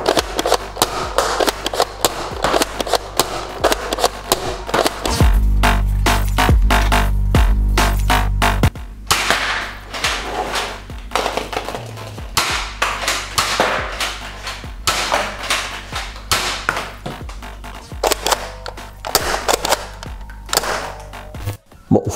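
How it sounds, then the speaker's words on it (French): Foam darts from a Nerf Elite 2.0 Ranger PD-5 pump blaster strike an iron sheet about five meters away, giving a series of sharp metallic thwacks in irregular rhythm amid pumping clatter and busy background noise, no talking. "On va tirer sur la tôle de fer à 5 mètres."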